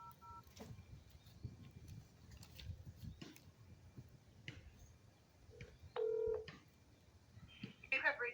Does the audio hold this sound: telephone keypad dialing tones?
yes